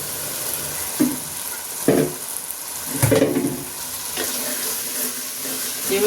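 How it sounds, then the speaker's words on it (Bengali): Rice and lentils fry in a pan for vegetable khichuri, a steady close sizzle punctuated by several soft scraping stirs at irregular intervals. "একটু ভুনা করে একটুখানি ভেজে নেই"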